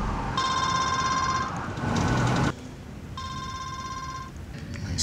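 A telephone rings twice, each ring a steady electronic warble lasting about a second, separated by a pause with a burst of background noise in between.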